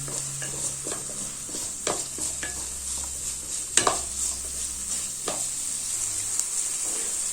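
Onion, green chili and capsicum frying in a pan for a soy chunks and gobi Manchurian dish, with a steady sizzle and repeated metal spatula scrapes and knocks against the pan.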